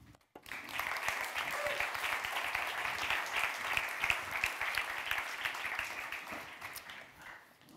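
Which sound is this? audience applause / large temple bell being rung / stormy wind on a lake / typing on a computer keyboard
audience applause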